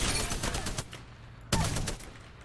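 Gunfire from a strong, low-recoil weapon in the video game Apex Legends: a rapid string of shots for about a second, a short pause, then a second loud burst that tapers off, with no talking.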